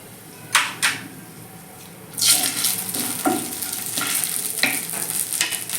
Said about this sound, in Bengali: এবার ওই তেলের মধ্যে দুটো তেজপাতা আর দুটো ছোটো এলাচ আর দুটো দারচিনি ফোড়ন দিয়ে দিলাম